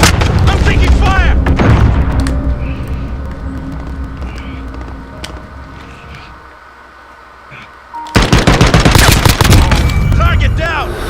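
Loud gunfire and booming explosions from the shooter game Modern Warfare, with dense rapid bursts that fade to a lull before a heavy new barrage; voices shout over the fighting.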